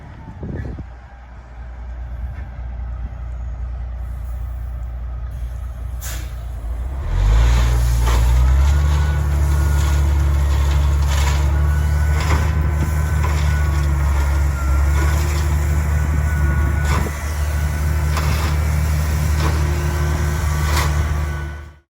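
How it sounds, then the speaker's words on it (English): A truck delivering gravel near a pole barn rumbles at low volume, then its engine rises into a loud, steady heavy roar with faint beeps and clanks as it pulls in and drops its load. "pulling in and dropping gravel in front of the pole barn"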